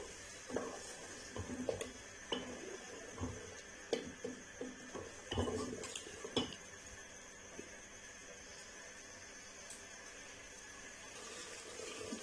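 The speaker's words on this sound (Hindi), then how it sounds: "अच्छी तरह टमाटरों को पानी खुश्क होने तक जो है इसको भून लेंगे" Tomato puree sizzling in a pan while a spoon scrapes and stirs in intermittent strokes, then a softer steady sizzle continues alone.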